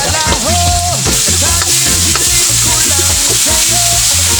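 Tomatoes frying loudly in a pan as shrimp paste is added, a dense close sizzle with scraping stirs, while music plays underneath.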